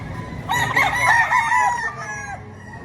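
A Golden Boy gamecock rooster at the Padre Garcia market in Batangas gives one loud, close crow lasting about two seconds over faint background noise.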